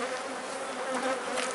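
Italian Cordovan honeybees hum at an open hive that is preparing to swarm, a dense, steady buzz of many bees close by, with no voices over it.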